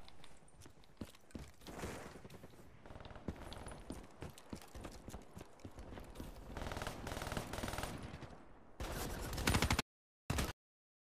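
Gunfire in Black Ops 3 multiplayer, rapid automatic shots rattling throughout at moderate volume, building to a denser burst near the end before cutting out.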